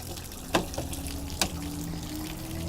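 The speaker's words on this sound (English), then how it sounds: "If you pull it out all the way, you're going to get a huge gush of water coming out." Water gushing and splashing steadily out of a travel trailer's RV water heater drain during winterizing, a continuous wash with a couple of sharper splatter bursts.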